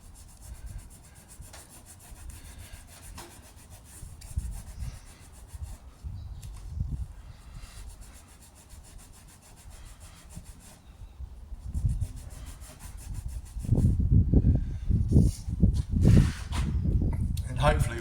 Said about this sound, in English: So as I'm rubbing away, see here, obviously that stripe went across. It's sort of spreading the gluey residue about.